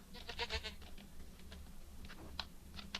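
Goat bleating in the Minecraft video game, a series of short game-sound bleats at moderate volume over a steady low background hum.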